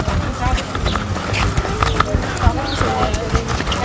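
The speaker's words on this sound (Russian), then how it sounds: "Лошади." Horse hooves clop irregularly on hard ground in an Istanbul park, a loose uneven rhythm of knocks, with background noise and faint voices around.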